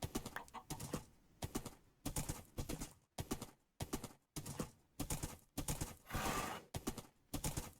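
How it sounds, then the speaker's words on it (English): Horse sounds from the Minecraft video game, a run of short bursts of clopping hooves and brief whinny-like calls, repeated in quick clusters with small gaps between them and no one talking. "Finally got a horse."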